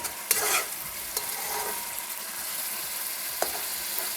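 A pot of rice and lima beans bubbles and sizzles softly and steadily, with a few light clinks and scrapes from stirring, no voices.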